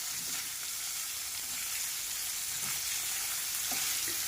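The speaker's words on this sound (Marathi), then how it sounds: "आणि तुपावरती छान आपल्याला हा परतून घ्यायचा आहे।" Paneer sautéing in ghee for a matar paneer curry gives a steady, soft sizzle with a fine crackle throughout. A few faint stirring taps sound under it, with no talking.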